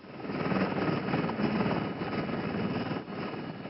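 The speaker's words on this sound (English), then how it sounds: "3 police helicopters took off from the Croat capital, Zagreb" Rotor and engine roar from police helicopters lifting off in Zagreb, a steady, dense, loud drone that swells slightly and holds throughout with no voices.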